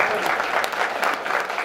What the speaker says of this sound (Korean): 다 함께 일어나서 한번 박수 치고 하시고 하겠습니다